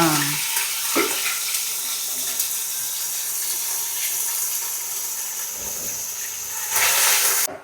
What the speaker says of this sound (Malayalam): ഓയിൽ നന്നായിട്ട് ചൂടായി ചിക്കൻ ഇടും